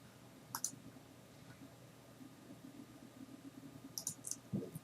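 A few sharp mouse clicks sound in computer software, one early and a quick cluster near the end, faint and close over a quiet room hum.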